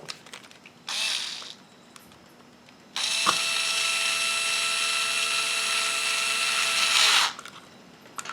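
Power drill driving a couple of screws into the rear diff area of a ZD Racing DBX 10 RC car, one short burst and then a sustained four-second whir that rises slightly before stopping, close and loud in a quiet room.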